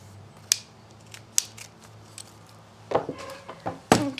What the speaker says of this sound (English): I'm going to trim the end of this one up a little bit. Trim it on both sides.